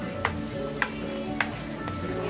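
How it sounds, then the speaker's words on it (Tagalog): Garlic frying in a pan for chicken and pork adobo, a steady close sizzle with a few soft clicks of stirring at regular intervals, no voices. "lalagay mo yung garlic"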